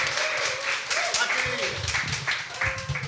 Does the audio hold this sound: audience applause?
yes